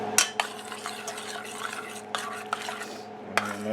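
Meatballs get stirred in brown butter in a pan, a soft scraping churn broken by a few sharp utensil clinks against the pan over a few seconds, fairly quiet and with no talking.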